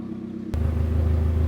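Loud custom exhaust on a Mazda Miata fitted with Mazda Speed wheels bursts into a deep, heavy rumble partway through, then keeps droning steadily close by with no talk.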